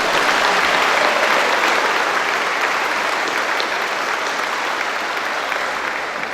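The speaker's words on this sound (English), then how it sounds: "Let's give them a big round of applause." A crowd at a high school commencement applauds the mothers in attendance on Mother's Day, a broad, continuous roar of many hands clapping in a large hall, loud and steady, tapering slightly near the end.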